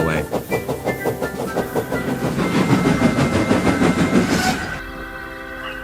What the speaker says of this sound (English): Presently they rumbled over the bridge and onto the Fat Controller's railway.